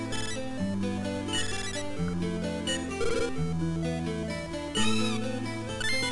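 Cat meow sound effect from the video game Riviera, a cluster of bright, tonal meows repeating over a few seconds against layered game music, fairly loud and close with no talking.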